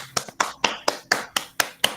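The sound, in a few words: applause for a guest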